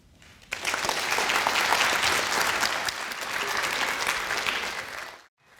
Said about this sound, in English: Let's give our third grade participants another round of applause.